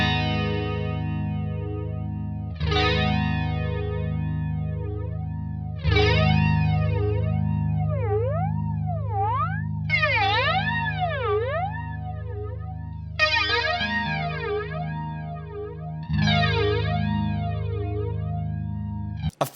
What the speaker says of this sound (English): When I start to turn that up, it'll start to sound more metallic and we get more of that accentuated sort of flanging.